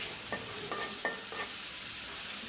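Spice masala with turmeric, coriander and cumin being sautéed in a pan for goat mutton curry: four quick, evenly spaced spatula scrapes over a soft, constant sizzle, followed by quieter frying.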